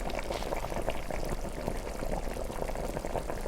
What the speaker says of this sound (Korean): 이 끓는 소리 한번 들어보시라고